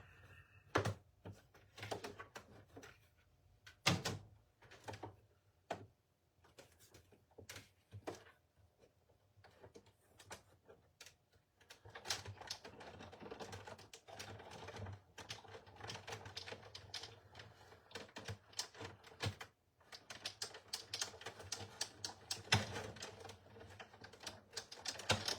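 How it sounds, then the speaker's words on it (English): Paper Christmas card run through a manual cut and emboss machine, a long series of irregular clicks, snaps and ratcheting knocks, sparse at first and then denser and busier, close and fairly quiet. "I'm just going to run this through the cut and emboss machine"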